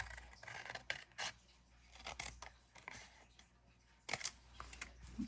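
Scissors snip through a paper strip being trimmed off a handmade notepad, a few crisp close cuts and rustles scattered across a quiet tabletop, with louder snips near the end.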